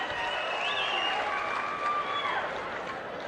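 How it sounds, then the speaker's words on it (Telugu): An audience claps steadily at a public program in Aspari, Alur constituency, a sustained wash of applause with a tone sweeping over it. "గట్టిగా చప్పట్లు కొట్టి అభినందించండి."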